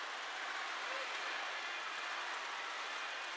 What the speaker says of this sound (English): Crowd getting behind Denisenko.